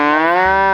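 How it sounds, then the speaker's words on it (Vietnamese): A cow gives one loud, close moo, a low drawn-out call that bends slightly in pitch before dropping off. "Bò là loài vật ăn cỏ, bản tính hiền lành."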